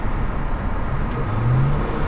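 Inside a BMW on a short ride, a steady broadband road and engine rumble fills the cabin at even volume, with a low drone swelling slightly near the end.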